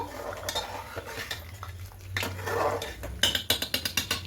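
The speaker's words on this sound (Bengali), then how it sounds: "আর দেবো সাদা তেল খুব ভালো করে মিশিয়ে নেব" Chicken marinade with vinegar and white oil being mixed in a bowl: soft stirring and squelching, then a quick run of sharp utensil clinks against the bowl near the end, no speech.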